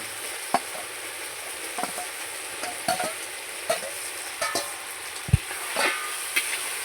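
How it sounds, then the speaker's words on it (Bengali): Fried mutton tossed with ginger, cumin and spices in a brass kadai, a low steady sizzle punctuated by frequent sharp spatula scrapes and knocks against the metal, close by with no voices. "মাংসটা দিয়ে আবারও খুব সুন্দর করে কষিয়ে নেব"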